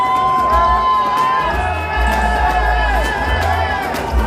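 A crowd at a boxing media workout at the MGM Grand in Las Vegas cheers and whoops continuously, loud and close, while someone talks over the noise.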